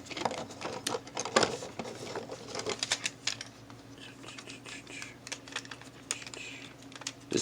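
Plastic parts of a Transformers Long Haul Voyager toy are pressed into their tabs, making a quick run of light, close clicks and taps in irregular bursts with short pauses.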